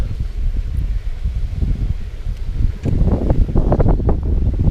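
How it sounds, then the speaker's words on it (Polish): Strong wind buffets the microphone at a fishing spot, a loud gusting rumble that swells and drops, growing harsher and more forceful in the final seconds. "Tylko z tym wiatrem jest największy problem."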